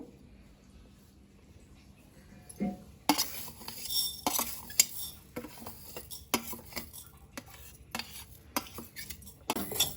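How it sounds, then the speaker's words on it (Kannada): Fenugreek seeds frying in melting butter for homemade ghee: a quiet start, then a soft sizzle with sharp clinks and scrapes of a spoon against the pan. "ಮೆಂತ್ಯನ ಫುಲ್ಲು ಕ್ಲೀನಾಗಿ ಫ್ರೈ ಮಾಡ್ಕೋಬೇಕು"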